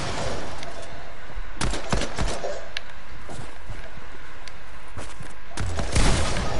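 Gunfire in a Fortnite match, with a handful of sharp shots cracking at scattered moments over a steady background of game ambience, some close and punchy, others quicker in pairs.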